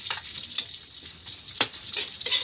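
Pork fat, already golden, and halved kikiam are sautéed in a pan for pancit canton. A spatula scrapes and stirs in a few sharp strokes over a soft crackling sizzle, close by, with no voices.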